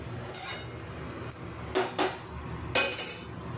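A metal lid set onto a pot of mutton curry in a home kitchen, a few close clanks and clinks of metal on metal, one after another with short gaps between.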